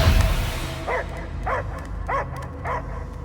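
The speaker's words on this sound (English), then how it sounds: "I hear only barking." Dog barking in Marvel's Guardians of the Galaxy video game: four evenly spaced barks with a whimpering, yelping edge, moderately close, over a low droning background.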